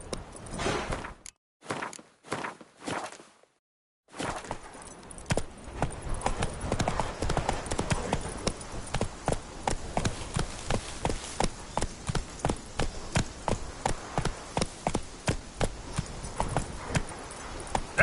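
Hooves of Roach, the horse in The Witcher 3, break into a gallop after a few stuttering steps, a brisk rhythmic clip-clop that stays loud and close for the rest of the stretch.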